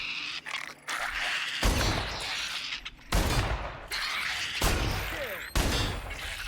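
Gunfire from a gun in the sci-fi shooter The Outer Worlds: Spacer's Choice, several loud, close bursts of rapid shots separated by brief pauses.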